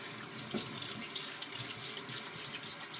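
Tap water runs steadily from a kitchen faucet as hands are rinsed at the sink, a continuous close hiss and splash with slight shifts in flow.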